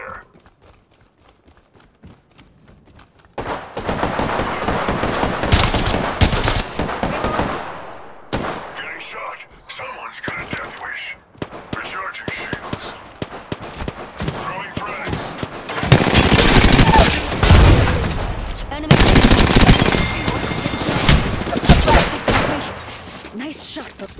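Gunfire erupts during an Apex Legends match, with bursts of rapid automatic shots in loud, dense clusters mixed with game sounds, rising to a heavy barrage near the end.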